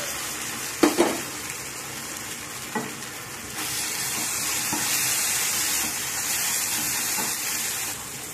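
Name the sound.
stirring and frying ginger masala in a pan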